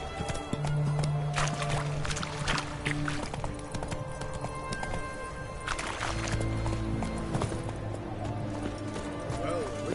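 Roach, a horse in The Witcher 3 video game, gallops with rapid, rhythmic hoofbeats that stay prominent across the whole stretch, mixed with game background sound and voices talking.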